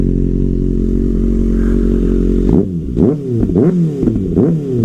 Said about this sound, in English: our bike perfectly idles right like it's supposed to